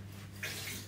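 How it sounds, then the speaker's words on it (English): Cold water poured from a tap into a pan of Karelian hotpot, a Finnish meat stew, starting partway through as a close, steady splashing rush over a low constant hum. "all we're going to do now is also add some cold water till it's almost covering the top"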